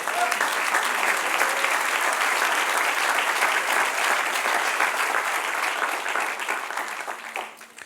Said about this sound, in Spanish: Dale un aplauso al que reina.